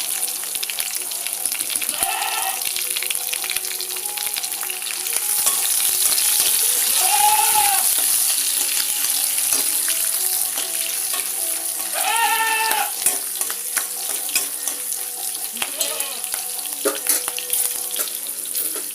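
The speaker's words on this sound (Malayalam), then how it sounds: "ഇതേപോലെ ഒന്ന് കീറിയെടുത്ത പച്ചമുളക് ചേർത്ത് കൊടുക്കാം." Slit green chillies dropped into hot oil for a gooseberry (nellikka) pachadi, giving a steady loud sizzle and crackle throughout with brief clinks of a utensil, close up and without talk.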